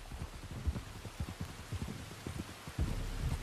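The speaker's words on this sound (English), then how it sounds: "You were right about the damn rain." Steady rain falls close by with broad hiss and scattered heavier drops and low thumps, louder toward the end, no voices.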